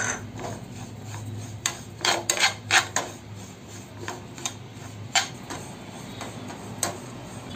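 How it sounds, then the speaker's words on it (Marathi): Split mustard seeds dry roasting in a pan, with irregular soft scraping and rasping strokes and light ticks as the seeds are moved around, close and moderately quiet, no talking. "आता आपण हे राईची डाळ घेतली आहे, ती आपण आता थोडीशी थोडीशी गरम करून घ्यायची आहे"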